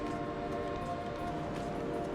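An Italo high-speed train built by Alstom runs past with a steady, sustained tonal hum and rumble at moderate loudness.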